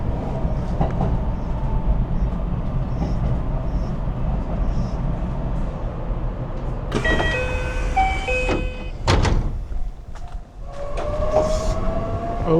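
Passenger train in Nara, Japan: a steady heavy rumble of the rolling train, then squealing brakes and high whining tones as it slows and stops, with clunks near the end, loud and close.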